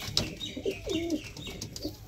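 A pigeon coos softly close by, giving a few low rolling coos amid faint background noise.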